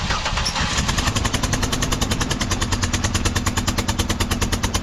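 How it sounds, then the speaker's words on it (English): A Buick LeSabre 3800 engine runs with a spark plug broken off in the cylinder head, producing a loud, rapid, steady mechanical knocking and popping over the idle, close by throughout. "all that noise is a spark plug busted off in the head"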